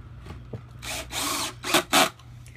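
A power drill drives 8 x 1.5 drywall screws down through wooden tabletop boards: a few short whirring bursts under a second long, close and fairly loud, with no talking.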